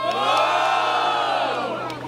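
A battle rap crowd at a semi-final freestyle battle cheers and shouts loudly for a rapper, a dense, sustained roar of many voices with whoops, swelling and slowly easing off.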